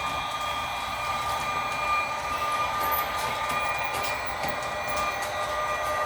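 Märklin H0 model train running on a large modern layout with its original sound module, a steady rumbling rail-car roar with faint metallic whine and squeal, continuous and close, no talk.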